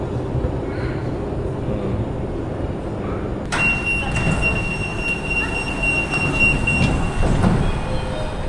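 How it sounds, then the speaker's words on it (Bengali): A metro train pulls into a subway station in Beijing, with steady rumbling rail noise that grows louder midway, a sharp high wheel squeal and the clatter of cars passing close by. "মেট্রো চলে আসছে।"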